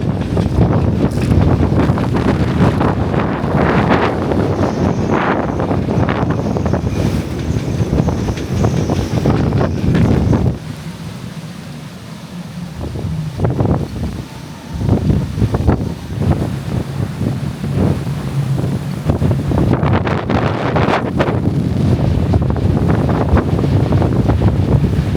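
Gale force wind roars across a marina dock, battering the microphone while waves slap and churn inside the harbor near a moored catamaran; loud and continuous, easing briefly midway before surging again.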